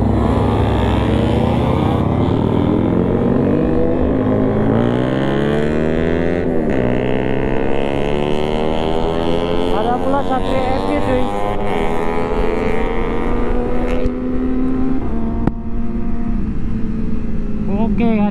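Big motorcycles rev their engines during a Sunday morning group ride, a loud continuous roar with rising and falling revs from several bikes, voices mixed in.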